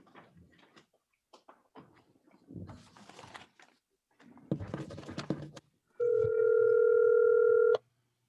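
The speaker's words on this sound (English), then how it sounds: "Now, Mr. Hall, could you get Mr. Saldivar on the line?" After some scattered soft clicks and knocks, a telephone dial tone sounds loud and steady for about two seconds near the end as a call is placed.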